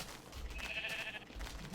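A single sheep bleat from Minecraft Indev rises over soft game background noise, wavering and lasting under a second at moderate loudness.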